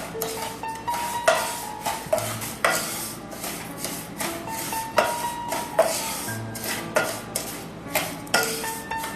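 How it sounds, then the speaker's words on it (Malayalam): Semolina (rava) dry-roasting in a pan while a metal spoon stirs it, giving rhythmic scraping and clinking against the pan roughly every half second, close and fairly loud with no talking. "റവ ഒന്ന് ചുമന്ന് കളർ വരുന്നവരെ ഇതിലേക്കിട്ട് ഈ സമയം വറുത്തെടുക്കാവുന്നതാണ്"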